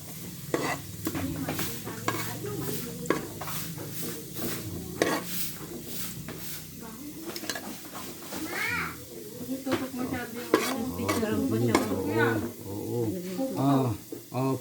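Garlic frying and being stirred in a pan while making chicken curry, with steady sizzling and repeated scraping stirs throughout, close and fairly loud, as someone talks over it and a voice is heard now and then.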